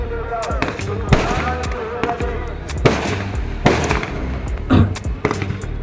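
Fireworks display at the Dewa Sharif fair, with repeated sharp bursts and crackling booms at irregular intervals over steady crowd noise and talk.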